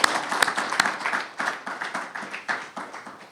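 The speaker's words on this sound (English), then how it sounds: "please give Representative Buchanan a round of applause for all of his help" An audience at an aquarium update event gives a round of scattered applause, a modest group of hands clapping unevenly in short bursts, fairly faint and heard without talking.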